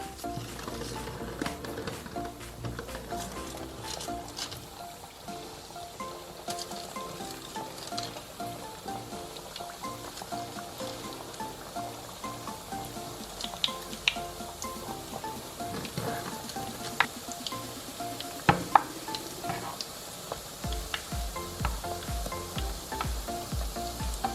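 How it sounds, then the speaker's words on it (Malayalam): Donut dough pieces fry in hot oil with a constant crackling sizzle, busy with fine pops and occasional louder spits and clinks, close and without talk. "നമുക്ക് ഓരോന്നായിട്ട് എണ്ണയിലോട്ടിട്ട് വറുത്തെടുക്കാം."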